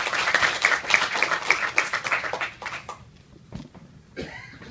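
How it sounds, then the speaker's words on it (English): An audience claps for a speaker in a loud, dense burst of applause that lasts about three seconds, then thins out to a few scattered claps and small room noises. "Please, a warm round of applause."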